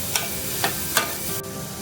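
Vegetables for a ragi veg soup sauté in a hot pan, a continuous dense sizzle punctuated by three or four quick spatula scrapes, close and fairly loud.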